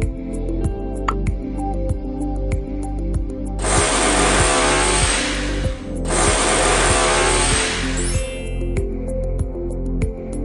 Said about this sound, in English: Now make a small hole with drill machine halfway up on one side of the bottle.